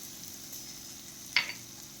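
Green peas with red chili powder and spices sauté in a pan for a matar kachori filling, giving a faint, steady low sizzle with one brief clink or scrape of a spoon midway, no talking.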